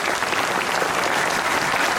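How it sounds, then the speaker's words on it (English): Dense, even applause from an audience at a motorcycle racing meet-the-riders event, loud and continuous across the whole moment with no speech over it. "So could somebody please give him a round of applause?"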